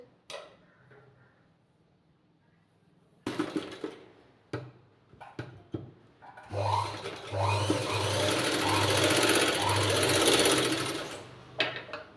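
A domestic sewing machine stitching a puff sleeve: a few short taps and bursts at first, then a long continuous whirring run of rapid needle clatter, close and loud, slowing to a stop at the end.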